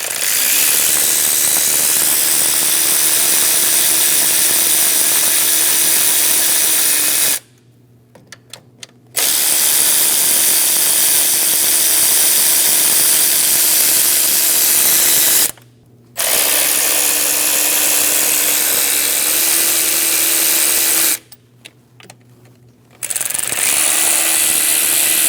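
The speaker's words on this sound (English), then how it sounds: "Using an 8mm socket, we're going to remove all of the intake bolts." Ratchet with an 8mm socket removes intake manifold bolts on a 2011-2018 Ram 1500 5.7L V8, making a loud, continuous mechanical whir in three long runs separated by brief quiet pauses.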